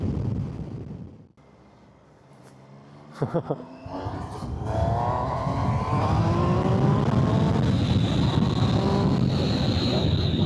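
Wind buffets a rider on a 2025 Triumph Tiger 800 Sport motorcycle, starting with a muffled rumble that dips, then a few sharp knocks before a loud, sustained roar of rushing air and engine builds and holds to the end.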